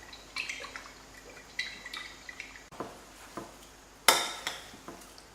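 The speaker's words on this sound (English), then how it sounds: "It's a little bit too dry, so I'll add another 50 ml of oil and give it a good mix" Cabbage roll filling being stirred in a bowl after extra oil is added: scattered soft clinks and wet scraping strokes, with one sharper clatter near the end, close and fairly quiet, no speech.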